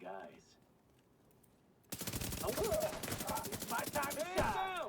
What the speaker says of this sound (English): Oh, some shooting.